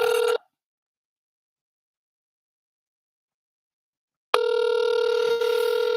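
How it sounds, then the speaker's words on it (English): A telephone rings on an unanswered call, a steady electronic ring tone with a short burst at the start, a long silent gap, then the ringing resumes and holds loud and close to the end. "Well, he's not answering this phone."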